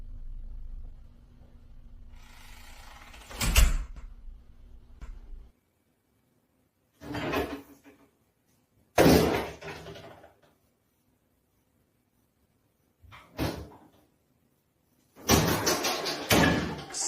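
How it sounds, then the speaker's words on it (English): Doors open and slam in a house, several separate loud thuds and bangs spaced apart with dead silence between them, the last a longer, rattling burst. "Something began opening doors in his new home."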